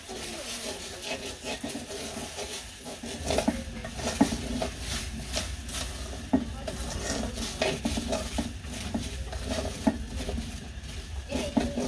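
Lentils frying in a pan with a utensil stirring and scraping them, irregular rubbing and clinking strokes over a soft sizzle, close and alone without talk.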